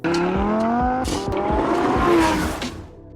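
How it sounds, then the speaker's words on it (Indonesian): A car engine roars loudly as the vehicle speeds off in a film escape, with rising engine tones, tire noise and sharp knocks, fading out after about three seconds. "mereka berdua pun berhasil kabur dari sana dengan menggunakan mobil Choi"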